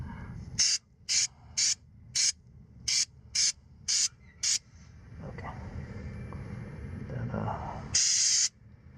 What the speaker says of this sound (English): I don't know why it's spraying downward like that.